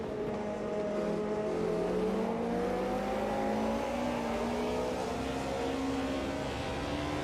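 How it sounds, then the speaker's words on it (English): BMW M3 race car in the Automobilista 2 racing game, its engine note climbing steadily through the revs in a smooth, continuous drone at moderate loudness, with no voices over it. "The M3 does sound very nice indeed. Now you can actually hear the car."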